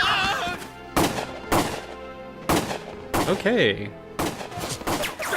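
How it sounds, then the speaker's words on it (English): Gunfire crackles through a wartime battle in the video game Valkyria Chronicles, several sharp broadband bursts spaced about a second apart over a music score, with a brief spoken word in between. "Gunfire!"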